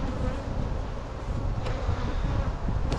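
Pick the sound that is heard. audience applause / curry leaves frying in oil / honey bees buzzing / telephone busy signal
honey bees buzzing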